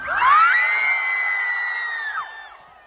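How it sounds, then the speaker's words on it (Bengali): A large crowd at a gathering in Cumilla yells as loudly as it can, one sustained, loud collective shout that swells at once and holds for about two seconds before trailing off. "এবার তোমরা কত জোরে চিল্লাইতে পারো দেখি তো যত জোরে"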